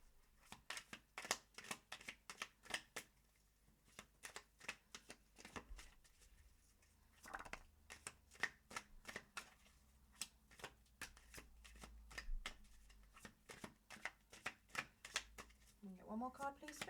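Tarot cards shuffled by hand, giving a long run of quick crisp riffling clicks in an uneven rhythm, close and clear, with a brief pause in the middle and a faint low hum beneath.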